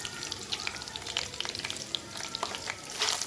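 Onions frying in preheated oil in a kadhai, a steady crackling sizzle with scattered pops and spits running throughout, close and alone with no talk.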